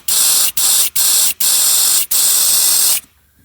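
Compressed air blown through a car's sunroof drain, a loud hissing spray in five bursts separated by short gaps, the last one longest before it stops.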